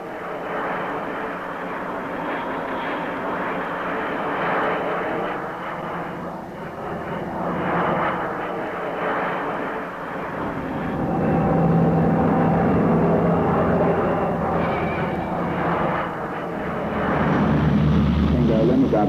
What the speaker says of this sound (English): the airliner, with engines purring along on reduced power, gently eases its way into a perfect landing